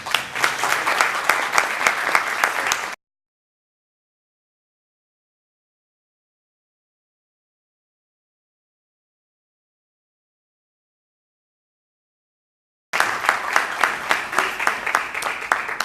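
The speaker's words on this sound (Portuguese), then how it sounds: "uma calorosa e efusiva salva de palmas, e merecida salva de palmas" Warm round of applause for sixth-semester university students at the close of a mock appellate court hearing, dense steady clapping from a room full of people, heard in two separate stretches with a long silent gap between them.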